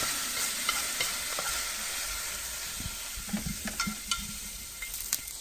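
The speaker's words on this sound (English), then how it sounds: "spread them out and quickly saute over high heat" Beef spread out and sautéed over high heat in a pan for Japanese nikujaga: an even frying hiss with irregular clicks and scrapes of stirring, busier toward the end.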